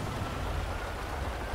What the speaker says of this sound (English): this rain is just not stopping